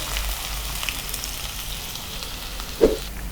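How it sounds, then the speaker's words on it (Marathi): Finely chopped onions fry in hot oil in a home kitchen pan for chicken liver fry, with a steady close sizzle throughout and one brief clack near the end. "आता तेल गरम झालं की ह्यातच आपण घालूयात कांदा"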